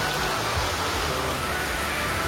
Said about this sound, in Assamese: পুৰা বৰষুণ দি দিছে।